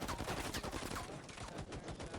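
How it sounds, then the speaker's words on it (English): Gunfire in a video game match rattles as rapid, overlapping bursts of shots and machine-gun fire, loud and continuous across the whole moment. "A lot of gunfire, like you said,"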